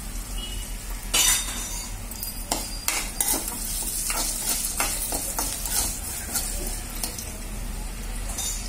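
Cashews sizzle in hot oil in a pan while being stirred for semiya upma, a close, steady frying hiss punctuated by scraping and clinking strokes of a spoon against the metal pan.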